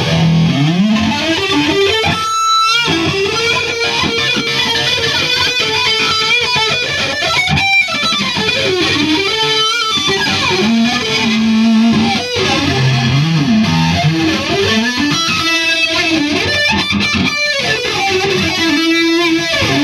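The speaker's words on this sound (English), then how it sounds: "a really crazy effect when you add some distortion" An electric guitar runs through an MXR flanger pedal with distortion, giving loud, sustained, gritty notes and riffs with a sweeping, jet-like whoosh, playing continuously with short pauses between phrases.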